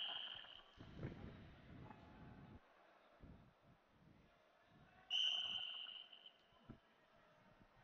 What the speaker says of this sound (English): The referee blows his whistle.